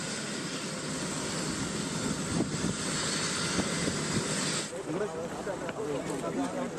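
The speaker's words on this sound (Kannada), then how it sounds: "ತಮಿಳುನಾಡಿನ ಕುಂಭಕೋಣಂಗೆ ಹೆಲಿಕಾಪ್ಟರ್ ಮೂಲಕ ಡಿಸಿಎಂ ಡಿಕೆ ಶಿವಕುಮಾರ್ ಅವರು ಹೋದ್ರು." A helicopter carrying Karnataka Deputy Chief Minister D.K. Shivakumar arrives at Kumbakonam, Tamil Nadu, its loud steady rotor and engine roar filling the scene, with voices talking over it and the noise easing slightly near the end.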